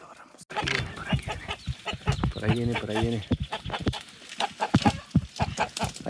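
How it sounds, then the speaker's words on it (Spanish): Chickens on a ranch in Oaxaca, Mexico, clucking and calling close by in short bursts, mixed with people talking. "Por allá se escucha el gallo."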